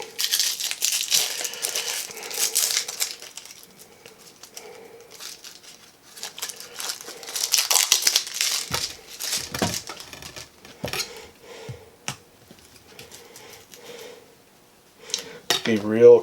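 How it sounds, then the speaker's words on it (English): Dry onion skin being peeled off by hand in a home kitchen, with papery crinkling and crackling bursts in two main stretches, plus some light clinks of utensils and a few quieter rustles in between. "So we'll get the onion, the skin off the onion here."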